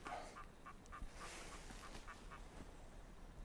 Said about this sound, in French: Adrien, qu'est-ce que c'est que cet oiseau qui miaule? C'est un plongeon catmarin